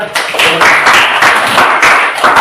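Brief, loud clapping from a group, probably students in an Indonesian classroom, with uneven bursts of hand claps.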